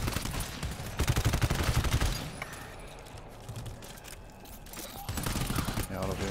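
Shotgun gunfire in the modded GTFO video game comes as clustered, rapid blasts with a rattle of mechanisms, loudest early on and again near the end, with faint voices in between.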